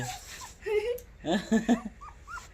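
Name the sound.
puppies whimpering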